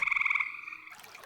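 A frog croaks in a close, loud run of rapid pulses that turns into a steady buzzing trill. It fades as a faint rustle takes over, with nobody speaking.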